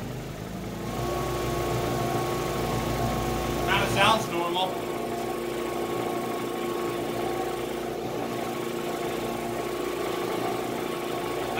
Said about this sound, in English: Now let's fire up the generator and see if it does anything.